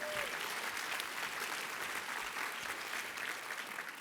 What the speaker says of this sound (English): Y'all give her a big round of applause for everything she's doing here